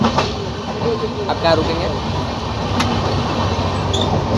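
Inside a moving passenger train between Ludhiana and Pt Deendayal Upadhyaya Junction, a steady rumbling ride noise with faint clatter runs throughout, while people talk over it.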